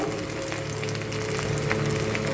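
Turmeric, chili and cumin powder sautéing in a pan for a Bengali fish and pointed gourd curry: a steady, close oil sizzle with soft crackle, no talk.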